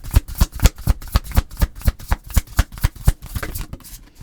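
Tarot cards being shuffled by hand, a quick regular run of crisp slapping riffles up close, with the cards drawn as it slows near the end.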